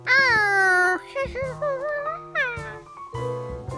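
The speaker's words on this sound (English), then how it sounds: "Please keep that cat away." A cartoon cat meows loudly in a long drawn-out cry, followed by several shorter, wavering meows close by.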